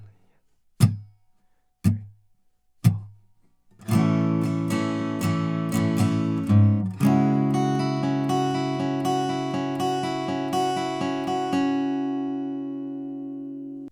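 Acoustic guitar playing the intro of a song, starting with three single plucked notes spaced about a second apart, then ringing strummed chords with an up-down pattern that sustain under steady repeated strokes, close and clear with no voices.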